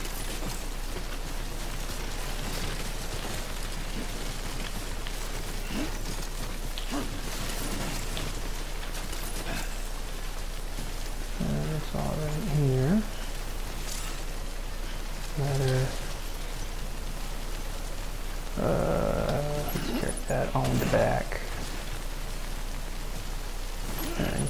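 Steady rain hisses throughout a stretch of the video game Death Stranding, a constant wash with occasional clicks and short tonal game sounds layered on top.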